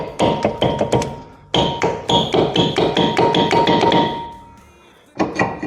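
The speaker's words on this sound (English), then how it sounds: "You know, a little whack like that." A hammer whacks a stuck front brake rotor on a 2016-2020 Kia Sorento, sharp metallic blows in a quick steady series with ringing overtones, loud and close, then a brief pause before more strikes.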